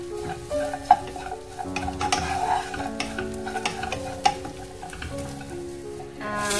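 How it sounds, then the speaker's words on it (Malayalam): Nuts roasting in butter in a pan crackle and sizzle steadily up close, with frequent spatula scrapes and a few louder clinks against the pan, no talking. "നട്ട്സ് ഒക്കെ റോസ്റ്റ് ചെയ്ത് വരുമ്പോൾ ബട്ടറിൽ നല്ലതായിട്ട് റോസ്റ്റ് ചെയ്ത് വരുന്നിട്ട് നല്ല മണമൊക്കെ ഉണ്ട്"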